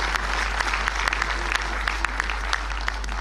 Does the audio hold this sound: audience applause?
yes